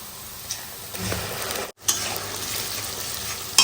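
Masala paste hitting browned onions in a pan for biryani, giving a steady close sizzle with soft stirring, plus a brief pause partway through and a sharper hiss at the end.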